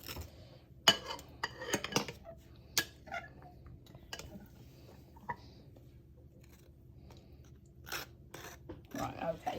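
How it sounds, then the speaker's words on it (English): A knife scrapes carrot cake mixture out of a mixing bowl, making faint, intermittent scrapes and small metallic clinks in a quiet kitchen. "If you can scrape everything out, scrape the rest of it out"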